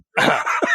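A single short human cough, close and fairly loud, in two quick bursts with a slightly throaty, throat-clearing quality.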